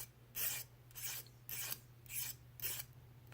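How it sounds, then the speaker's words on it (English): A mill bastard file rasps across the edges of a freehand-made metal tool to remove burrs, in five slow, even strokes with brief gaps between them, close and fairly quiet. "I just take a regular mill bastard file, and I just kind of remove the burrs from all the edges"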